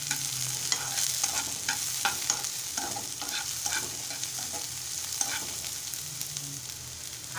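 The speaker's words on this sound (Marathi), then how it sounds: "नंतर बारीक चिरलेला कांदा घालूया। आता मिश्रण छान एकजीव करून घेऊया।" Finely chopped onion fries and is stirred in a pan for Maharashtrian-style egg bhurji, giving a steady close sizzle with repeated spatula scrapes and taps throughout.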